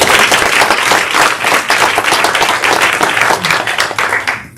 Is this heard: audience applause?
yes